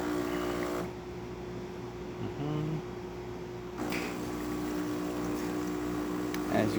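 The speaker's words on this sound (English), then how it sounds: "now we got a nice steady flow coming out of the machine" A DeLonghi espresso machine, just serviced, pumps a test shot on a medium setting with a steady low mechanical hum and buzz throughout, close and continuous, with a brief change in tone partway through.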